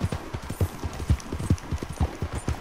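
Horse hooves clip-clop in a steady, quick rhythm in the video game Red Dead Redemption 2, close and continuous with no voices.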